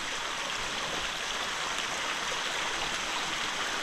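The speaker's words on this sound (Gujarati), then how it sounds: "અહીંથી આખો આમ ફોલ આવે જે અત્યારે સામાન્ય પાણી આવી રહ્યું છે" Water flows over the Hathni Mata waterfall at a modest, ordinary volume, making a steady, close rushing hiss with no breaks and no voices.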